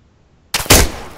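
Gunfire in Arma 3 breaks a near-silence, with a sharp close shot followed by a louder burst of rapid fire that rings out and tails off.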